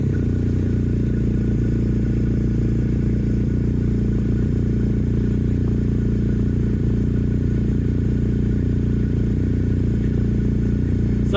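A BMW motorcycle engine idles steadily after starting, a loud continuous low rumble with mechanical clatter that stays even throughout.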